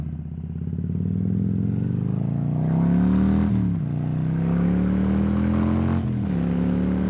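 A Harley-Davidson Low Rider S motorcycle accelerates hard and close, its loud engine note climbing steadily through the gears with two brief dips at the shifts, no talking over it.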